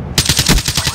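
Rapid automatic gunfire in the Black Ops 3 video game, a close, loud burst of about eight evenly spaced shots in quick rhythm after a brief silent start.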